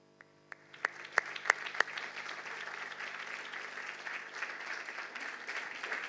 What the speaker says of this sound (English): that's a great round of applause there for Ronald Cohen